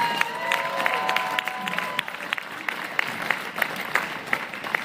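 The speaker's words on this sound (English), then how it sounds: "Another round of applause." A crowd at an outdoor electoral reform rally in Victoria, BC claps steadily, a dense patter of applause with a few louder individual claps standing out toward the end.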